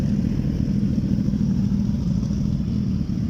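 Motorcycle engines at the Dubai Motor Show in Jebel Ali: a steady, loud low-pitched rumble of idling and gently revving bikes, continuous and close, with no clear voices.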